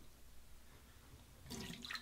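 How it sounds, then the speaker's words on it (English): Water pours out of a shaving bowl during straight razor shave preparation, a short splashing burst that comes in near and fairly loud after a quiet start. "Pour out the water from the bowl and just drop the shaving cream right in there."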